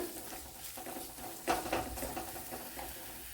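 Green chilies go into a sizzling egg dish in a pan, giving a faint, steady frying hiss with soft pattering crackles and a slightly louder burst midway.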